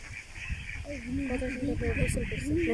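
Ducks on a duck farm quack in a steady run of nasal calls that build over a couple of seconds, set against background hum, with someone talking over them.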